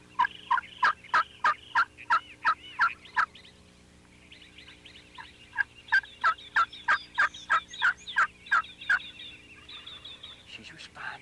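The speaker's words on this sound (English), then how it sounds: "She's responding." Wild turkeys call in rapid, repeated bursts of loud, rolling yelps, answering a hunter's call. A long run of sharp calls is followed by a short pause, then a second run, all close and clear over faint background hum.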